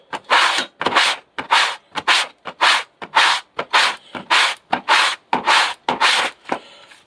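Hand sanding of carved bricks on an N scale model train station, a close, loud raspy scrubbing in a brisk back-and-forth rhythm of about a dozen short strokes with brief gaps, no voices.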